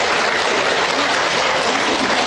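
Dense, steady wash of audience clapping, loud and even throughout with no individual claps standing out and no talk over it.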